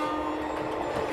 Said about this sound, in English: Insert train sound effects.